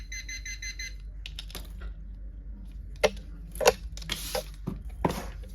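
Parkside pinpointer metal detector gives a quick run of bright, evenly spaced electronic beeps at the start, followed by scattered handling clicks and knocks.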